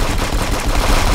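Rapid turret machine-gun fire in a multiplayer video game, a dense continuous burst of loud, close shots with no pauses across the whole stretch.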